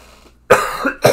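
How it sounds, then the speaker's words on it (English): A single harsh cough bursts out after a brief quiet moment, followed by a second shorter cough, both close and loud with no talking. "Can't get rid of the cough."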